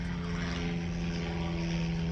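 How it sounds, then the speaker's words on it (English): Small propeller planes fly overhead near a small airport, their engines giving a steady, droning hum at moderate distance that persists throughout without any talking. "Sorry for the planes. I live nearby a small airport."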